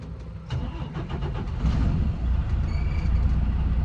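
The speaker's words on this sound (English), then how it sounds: "start the vehicle" A manual-transmission car engine cranks and starts with the clutch pressed and the shift in neutral, a loud close rumble that rises and settles into a steady idle.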